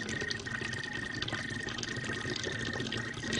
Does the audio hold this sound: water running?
yes